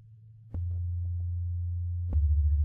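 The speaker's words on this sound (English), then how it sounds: "After the ambiences, you even get some sub synth sustains." A sub synth sustain from a harpsichord sample library: a deep, steady sine-like bass drone that swells in near 0.5 s and holds loud and unbroken, picking up a slight pulsing wobble toward the end, with faint clicks and no voices.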